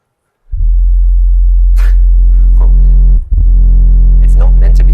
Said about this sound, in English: I'm going to show you a series of sub-sine wave tones. They're 4 F notes,